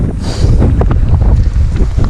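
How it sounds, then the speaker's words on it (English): Loud, low buffeting wind roaring across the microphone outdoors, a constant rumbling gusty noise with no voices. "Oh, it's windy."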